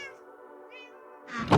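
A cat meows in one drawn-out, wavering cry, followed by a short, louder thump near the end, heard close up indoors during a Minecraft gaming session.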